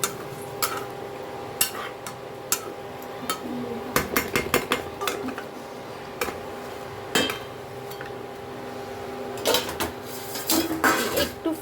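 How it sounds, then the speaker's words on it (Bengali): A metal spoon stirs garam masala into chicken curry in a pot, producing repeated sharp clanks and scrapes against the metal pot in irregular bursts, close and clear. "এবারে ওই গরম মশলাটাকে পুরো মাংসের ঝোলের মধ্যে মাংসের সাথে মিশিয়ে দেবো।"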